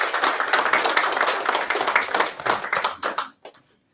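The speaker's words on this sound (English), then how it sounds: "You can give him a round of applause." An audience at an investment meeting breaks into a round of dense clapping to welcome a guest, strong at first and then tapering to scattered claps that stop near the end.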